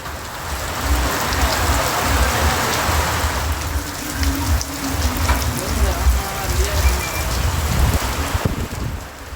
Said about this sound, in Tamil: கள்ளக்குறிச்சி மாவட்டம் உளுந்தூர்பேட்டை மற்றும் திருக்கோயிலூர் சுற்றுவட்டார பகுதிகளில் கொட்டி தீர்த்த மழை.